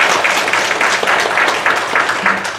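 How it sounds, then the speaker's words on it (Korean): Church congregation at a special revival gathering applauding in praise, loud and sustained rhythmic clapping from many people close by, with faint voices mixed in. "우리 살아계신 하나님께 다시 한번 영광의 박수를 드립니다."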